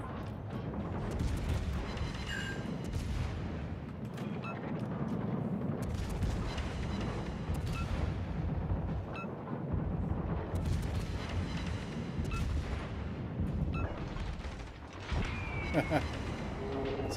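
Heavy naval gun salvos and explosions from World of Warships roar continuously at close range in a dense, rumbling battle mix, with occasional sharper blasts standing out and talk running over the top.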